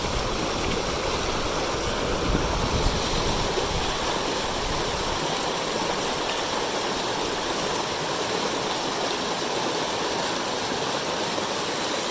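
A mountain creek along a trail rushes steadily, a dense continuous wash of flowing water heard close and loud, with no voices.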